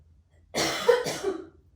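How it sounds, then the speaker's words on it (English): A few harsh coughs in quick succession, close and fairly loud, with no talking. "Again, I'm sorry about my coughing."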